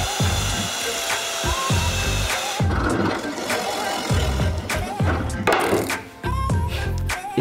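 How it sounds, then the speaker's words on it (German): Power drill pre-drills holes in a wooden workpiece for a garden bench, in repeated short bursts of whirring separated by brief pauses, close and steady, with no talk. "Ich bohre hier vor, damit ich mit dem Werkstück unter den Bohrtisch komme."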